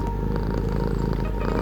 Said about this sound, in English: Wow, I can't believe I found a cat.